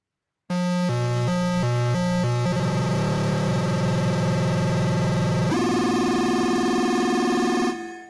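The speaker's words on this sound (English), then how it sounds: "So already it sounds a bit like one of those 8-bit arpeggio kind of sounds." A Korg volca bass synthesizer plays a fast, buzzy arpeggio with its rate and intensity adjusted, stepping notes at first, then blurring into a sustained chiptune-like warble that shifts pitch midway before stopping, loud and alone.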